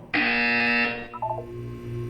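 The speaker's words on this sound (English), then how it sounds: "When you hear the buzzer, look up at the ceiling." A loud electronic buzzer sounds in the Portal 2 video game, one sustained harsh tone lasting under a second and then cutting off, followed by softer tonal game sounds and a low background hum.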